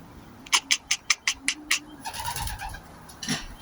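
Racing pigeons at a loft coo in a run of about eight short, evenly spaced calls, followed by softer, murmuring coos and rustling, close and clear with no talk.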